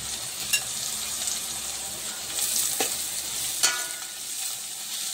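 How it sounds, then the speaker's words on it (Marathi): Carrots, capsicum and cabbage sizzling and frying in a pan for noodles, a steady hiss with occasional sharp stirring scrapes and clinks, close and continuous. "गाजर, शिमला मिरची आणि कोबी आपण व्यवस्थित भाजून घेऊया।"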